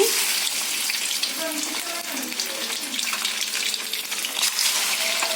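Fish eggs fry in hot oil in a wok, giving a constant hissing sizzle close by with a voice murmuring faintly under it.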